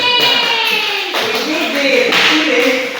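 A classroom of students clapping together during a teaching demonstration, a loud, steady patter of applause lasting a few seconds with voices cheering over it.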